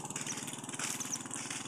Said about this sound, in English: That is a motorcycle passing by.